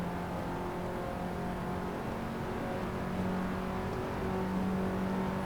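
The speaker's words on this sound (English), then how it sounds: "So I still need to run my first gear to the maximum RPM." A car engine in Assetto Corsa revs toward maximum RPM in first gear, a steady, continuous droning whine held at high pitch without a break.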